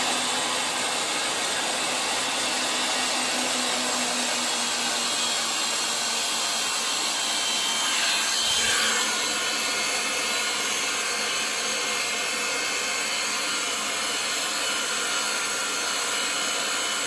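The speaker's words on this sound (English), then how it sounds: "I'm gonna bring down my die that's already set to 1¼ inches." Pipe threading machine cutting threads on 1¼-inch oiled pipe with a die, giving a steady broadband whirring grind that holds level and continuous throughout, close and loud with no talking.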